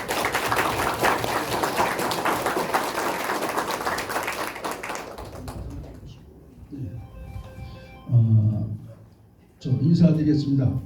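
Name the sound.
audience applause for a lecturer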